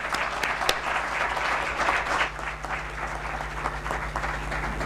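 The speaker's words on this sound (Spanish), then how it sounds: "vamos a recibir con un aplauso a Emilio José Triviño." Sustained applause from a conference audience welcoming a speaker to the podium in Alhama de Granada, steady and full across the whole stretch with no talking over it.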